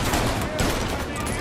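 Heavy gunfire in Mafia Definitive Edition, a dense stream of close shots that continues through the whole moment with a voice faintly mixed underneath.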